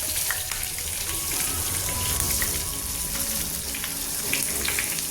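Plantain and soybean vegetarian fish fry pieces sizzle in hot coconut oil with curry leaves, a steady dense crackle with scattered pops filling the whole stretch, close and without talk.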